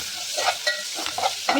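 Fried onions roast and sizzle in a pan while biryani is cooked, with a steady frying hiss and a few soft scrapes from stirring over the short stretch.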